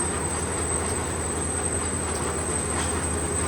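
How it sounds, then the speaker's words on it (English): A potato harvester working in the field runs continuously with a rattling clatter and a loud, sustained high-pitched squeal over it. "It's a bit noisy and there's a big squeal."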